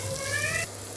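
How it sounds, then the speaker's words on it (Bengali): Vegetables sautéing in hot oil for a leftover-rice dish, a steady close sizzle with a brief stirring scrape, loud and continuous without talk. "সবগুলোকে আমি তেলে কষিয়ে নেব আগে।"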